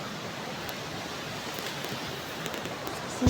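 A swollen river rushes after rain, a steady, dense broadband roar of fast-flowing water close by, constant throughout with a slight thump near the end.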